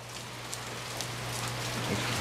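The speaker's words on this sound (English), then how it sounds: "It's just rain." Steady rain falls outside an open doorway, a dense even hiss of drops on surfaces with a low hum underneath and no voices.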